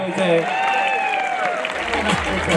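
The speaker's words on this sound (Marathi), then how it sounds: "सर्व वस्ताद मंडळींनी टाळ्या करा की टाळ्या" Clapping from a crowd at an outdoor village wrestling ground, a steady loud spread of applause heard beneath someone talking over a loudspeaker.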